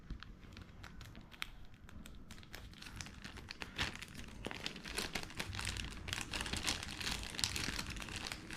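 A package is cut and torn open close by, with continuous crinkling, rustling plastic and small tearing sounds over several seconds, fairly quiet and without talk.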